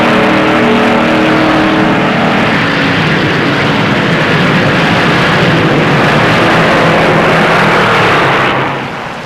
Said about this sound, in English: He stands on the throttle in the high bank groove.